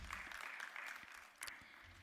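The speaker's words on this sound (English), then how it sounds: "A round of applause for him." Audience applause at a Nairobi tech week sustainability conference, a steady wash of clapping from a crowd, moderately distant, with a brief louder burst partway through.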